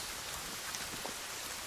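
In-game rainfall from Sons of the Forest: an even, quiet wash of falling drops with faint scattered ticks, steady throughout and with no talking over it.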